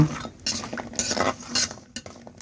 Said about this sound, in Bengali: কুমড়ো বড়িটা আমি লাল লাল করে ভেজে নেব।